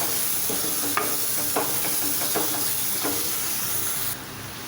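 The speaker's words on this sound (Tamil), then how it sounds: "இந்த பூண்டை போட்டு நல்லா வதக்கிக்கலாம்." Ground garlic sautés in oil with fenugreek for a garlic pickle, a dense steady sizzle with several spatula scrapes, then the frying quiets suddenly near the end.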